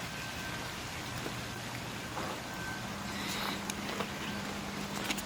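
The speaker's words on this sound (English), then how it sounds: "It did end up raining." Rain falls outdoors as a faint, steady hiss with scattered soft drops, distant and low, with a low hum underneath and no talking.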